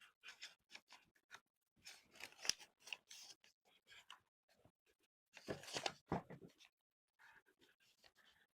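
Scissors cutting out a shape traced from a fabric rubbing, heard as short snipping bursts in two clusters with pauses between, close and fairly quiet, with no talking.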